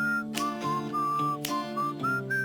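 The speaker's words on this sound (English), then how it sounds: "I'm liking the whistling." A whistled melody in a song, clear and sustained tones that glide between pitches over a steady musical backing, with short breaks between phrases.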